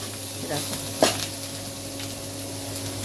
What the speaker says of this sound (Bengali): নারকেলটা হালকা একটু ভেজে নিয়ে